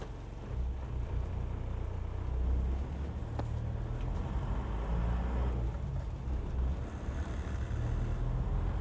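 Isuzu Panther car on a road test drive, with a steady low engine and road rumble plus some wind buffeting, heard close from inside the vehicle for the whole stretch with no talk.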